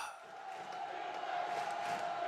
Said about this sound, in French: qu'est-ce que c'est que cette foule qui hurle là?